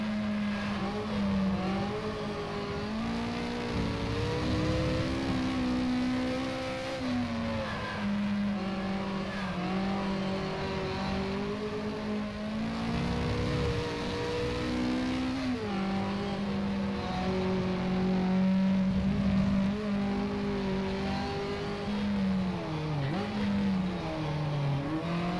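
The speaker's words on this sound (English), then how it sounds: "I'm just going to drift this thing all the way back around." A Lotus Cortina drifting at Oran Park in the racing sim rFactor, its engine droning steadily with rising and falling revs throughout, loud and continuous with no voices.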